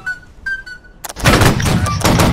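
A line of muskets fires a dense volley in Holdfast: NaW, a loud rolling crackle of many overlapping shots sustained after a brief lull of quieter battlefield sounds and a short tone.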